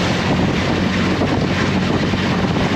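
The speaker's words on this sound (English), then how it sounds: "Definitely a little bit of a wind coming up here, but it's not too bad." Steady, loud wind rumbles and buffets the microphone on a lake during a ride in a small Marlon boat with a Yamaha 9.9 HP outboard, a low continuous drone underneath and no talking.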